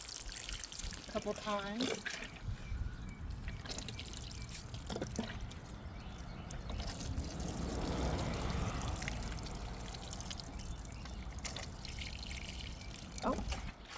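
Plants in a home garden getting a thorough watering, with water trickling and pouring into the soil in a steady wash, while a person talks briefly over it.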